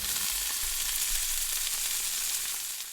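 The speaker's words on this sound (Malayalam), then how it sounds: "മീൻ അങ്ങോട്ട് വറുക്കാനിട്ടിട്ട്" Fish fries in a pan in a home kitchen, giving a dense, steady, close sizzle that holds at an even level from start to finish with no talking.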